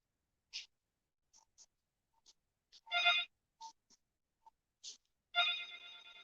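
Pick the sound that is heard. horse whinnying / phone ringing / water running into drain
phone ringing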